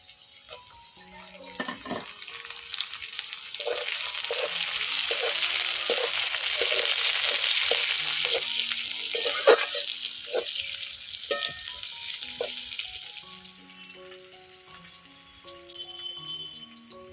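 Slit green chilies dropped into hot oil in a frying pan for a rohu fish-head and Malabar spinach curry, a loud hissing sizzle that swells then slowly settles, with a few utensil clinks.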